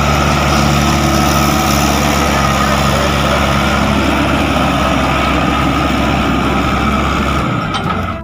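Toy dump truck or tractor motor runs steadily, a loud continuous engine-like drone with a constant hum that persists for most of the stretch, then cuts off near the end.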